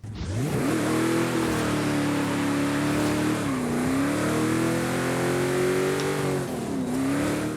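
Pontiac Trans-Am SD455 engine in Forza Horizon 5 roars loud and close, holding a strong sustained drone that swells and dips twice as the revs rise and fall.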